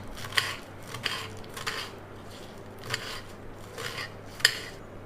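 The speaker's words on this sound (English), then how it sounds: "I'll cut some spinach also very fine" A knife taps repeatedly on a cutting board, finely chopping spinach in short, uneven bursts of sharp clicks, close and clear with no talking.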